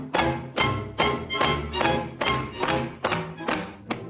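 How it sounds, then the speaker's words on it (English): Cartoon army artillery gun test-firing, a rapid series of about nine loud, evenly spaced thumping blasts, each a sharp punchy hit with a short decay, heard alone without voices. "The artillery tries out one of its new guns."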